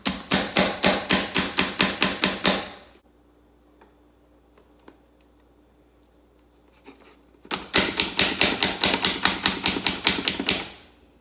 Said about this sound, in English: the food just goes in that little cup there, and you press it down, and like instantly you've got chopped chicken